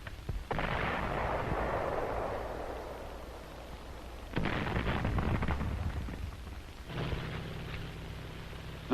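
Artillery fire in a WWII battle on Guam, three heavy booming blasts spaced several seconds apart, each followed by a rumbling decay over a constant background roar.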